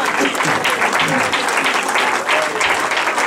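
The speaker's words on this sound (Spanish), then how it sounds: "Un aplauso." A church congregation claps loudly and continuously at an evangelistic service, a full, close, even wash of applause with faint voices mixed in.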